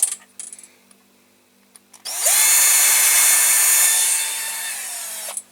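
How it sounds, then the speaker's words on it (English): A drill whines steadily as it bores through a part of a Matchbox Kingsize Aveling-Barford road roller model, starting after a few light taps and handling sounds, running loud and continuous for about three seconds before spinning down. "I'll pass the drill through that one as well."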